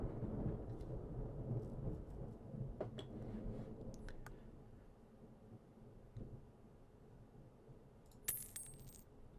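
Thunderstorm with rain in the fishing game Cat Goes Fishing: a steady low rumble and rain wash, with a few sharper cracks and a brief bright burst near the end, no talking.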